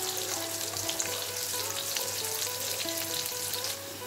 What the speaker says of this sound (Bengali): এইবার তেলে ক্যাপসিকাম দেবে, তার সঙ্গে আদা কুচোনো একসাথে ভাজা হবে।